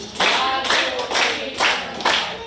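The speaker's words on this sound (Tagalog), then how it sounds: "Bigyan ulit nga natin sila ng 5 palakpak." A group of schoolchildren in a grade-5 science classroom claps together five times in a steady, evenly spaced rhythm. Each clap is a sharp, loud, close burst with no talking between them.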